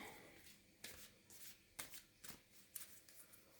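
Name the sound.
shuffling playing cards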